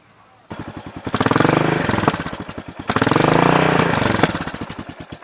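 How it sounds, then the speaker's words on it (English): A Suzuki S40 motorcycle with a new exhaust starts its test ride with a loud, close, thumping single-cylinder engine that revs up in two strong surges and drops back between them. "So now it's time for the test ride."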